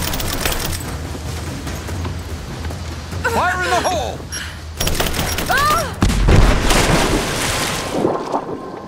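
A heavy explosion booms in the action game Rise of the Tomb Raider, landing loud and deep partway through amid rumbling game noise. Voices shout over the scene.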